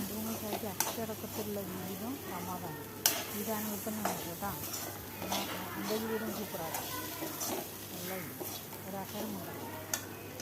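Chapati upma is stirred and mixed in a frying pan, soft scraping and a light sizzle running under a voice talking throughout.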